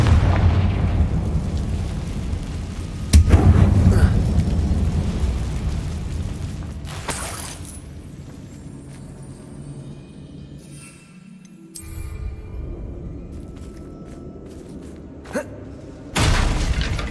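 A Confringo spell explosion in Hogwarts Legacy, set in a closed mine, gives a heavy booming blast that rumbles on and then fades, followed by a sharper burst later on. No one talks over it.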